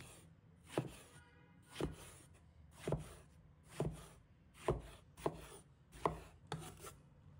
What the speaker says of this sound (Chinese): 准备1条茄子，把它切成小段，再切成长条。